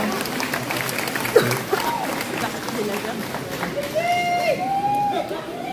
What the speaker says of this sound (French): Aussi on applaudit bien fort les accessoiristes